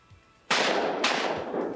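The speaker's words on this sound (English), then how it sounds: "Two shots at that one, misses it." Two loud shotgun blasts fire in quick succession at sporting clays targets during a championship shoot, each a sharp crack with a brief decaying tail.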